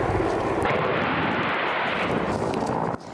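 Military attack helicopters and fighter jets fly overhead during Ukrainian operations in the war with Russia, giving a loud, continuous broadband engine roar that dips sharply in the final moment.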